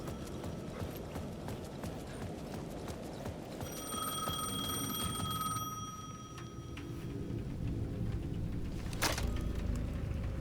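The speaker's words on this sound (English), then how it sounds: "The payphone at the edge of the plaza was ringing again." A payphone rings at the edge of a plaza in the video game Alan Wake 2, a steady electronic bell tone lasting a few seconds over a low, rumbling ambient background, moderately faint.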